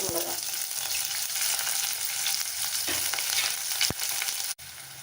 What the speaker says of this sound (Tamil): வெங்காயம் ஓரளவு நல்லாவே வதங்கணும்